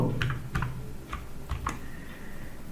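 Computer keyboard typing HTML table code, a handful of soft, irregular key clicks spaced out over low background hum.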